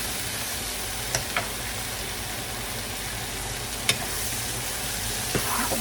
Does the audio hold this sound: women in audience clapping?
no